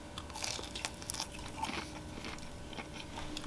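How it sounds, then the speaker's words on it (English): Bites into crunchy breaded fried chicken give a few sharp, close crunches and crackles in the first two seconds, then quieter chewing fades out, with no talking. "Try a little crunch. Very crunchy."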